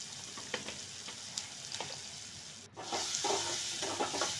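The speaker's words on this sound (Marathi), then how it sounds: "हे बघा, खालीवर परतून घ्यायचं." Spices and turmeric sauté in hot oil for vermicelli upma, a continuous sizzle with scraping stirs of a spoon against the pan, growing louder and busier partway through.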